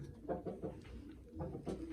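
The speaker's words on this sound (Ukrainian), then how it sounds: "У нас голуби взагалі дуже круті." Pigeons coo softly in a warm coop with eggs, several low, throaty calls repeating in a loose rhythm at close range.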